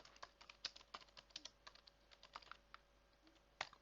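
Irregular keystrokes of someone typing PHP code on a computer keyboard, quick close clicks in uneven bursts with short pauses, fairly quiet, no voices.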